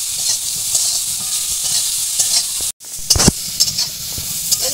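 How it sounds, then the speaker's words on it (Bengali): Eggplant and drumstick pieces frying lightly in oil with a little salt, a loud steady close sizzle that cuts out for a moment and then returns with a few stirring knocks against the pan. "এবার এই তেলের মধ্যে আমি বেগুন আর সজনে ডাঁটাটা হালকা করে ভেজে নেব"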